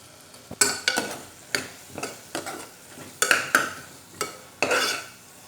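Chickpea masala for a Tamil Nadu style kondakadalai kuzhambu sautés in a pan while a spoon stirs it, giving about a dozen sharp scraping clinks at an uneven rhythm over a low background sizzle.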